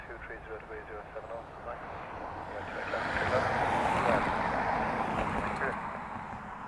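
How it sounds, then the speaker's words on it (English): A Ryanair airliner arriving from Amsterdam on final approach to Dublin Airport in rain, its engine roar swelling from a distant rumble to a broad, loud wash midway, then easing slightly, with talk faint beneath. "Ryanair from Amsterdam, you hear, just joining final."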